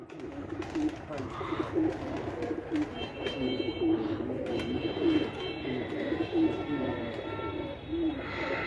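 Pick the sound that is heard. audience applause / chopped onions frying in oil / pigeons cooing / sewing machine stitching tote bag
pigeons cooing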